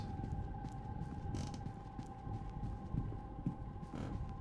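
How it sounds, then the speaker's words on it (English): Stairs in a spooky manor creak underfoot in a mystery video game, a faint groaning creak or two over a steady low mechanical hum and tonal drone, with no talking. "I didn't hear a creak until this one"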